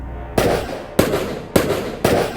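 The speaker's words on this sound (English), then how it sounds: "Gunshots." Four loud, sharp gunshots ring out close by, evenly spaced about half a second apart, each followed by a short fading echo.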